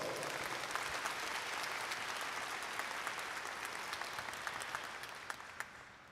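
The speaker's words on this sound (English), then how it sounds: "So let's give them a round of applause." A large audience at the Carolina High School 2020 graduation applauds, a broad, steady roar of clapping heard from a distance that slowly fades toward the end.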